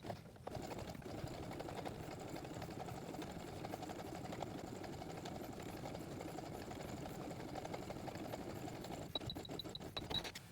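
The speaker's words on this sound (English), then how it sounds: "We're going to start with the top stitch." Sewing machine running steadily for about nine seconds while top-stitching a fabric face mask, a continuous mechanical whir with a few brief higher clicks near the end.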